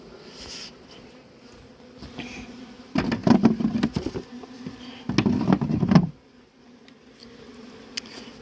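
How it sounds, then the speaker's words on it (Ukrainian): Honey bees buzzing loudly around an open hive during spring expansion, swelling in two close bursts then easing back to a faint steady hum. "Так, бджоли налетіло."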